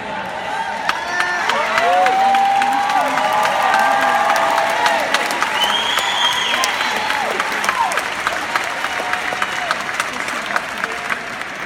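Sustained audience applause with scattered cheers and shouts from a large crowd at a talk on belief, steady and dense throughout.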